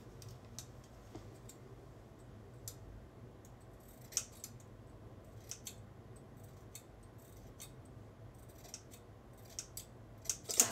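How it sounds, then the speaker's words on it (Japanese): Scissors snip through hair in a series of faint, sharp metallic clicks at irregular intervals, close by over a quiet room hum, with a brief louder burst of cuts at the end. "ちょっとハサミ切れへん。"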